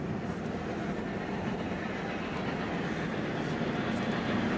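Steam locomotive R&N 425 of the Thorpe Flyer passing through town streets, a steady loud broadband rumble with rail clatter filling the whole stretch, no talk over it.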